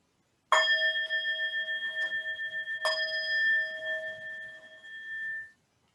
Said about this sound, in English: Let's have a couple of bells.